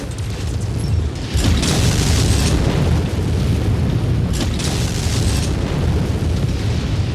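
Missiles exploding in the MechWarrior video game, a heavy, sustained roar of overlapping booms and rumbling blasts, loud and close throughout.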